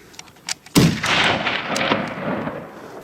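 A hunting rifle fires once at tahr and chamois in open mountain country. The shot is loud and sharp, and a long rolling echo trails off for over two seconds.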